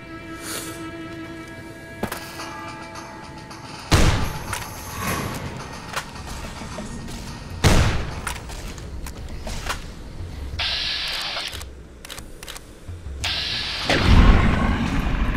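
Shotgun fire in the video game Fallout: New Vegas: several loud, booming blasts at irregular intervals, mixed with clanking mechanical game sounds and rattles between shots.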